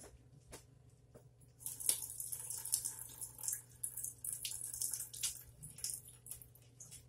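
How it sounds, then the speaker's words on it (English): Cooked potatoes being drained in a kitchen sink: water pours and splashes steadily for several seconds, swelling after a quiet start, with no talking. "Let me drain this."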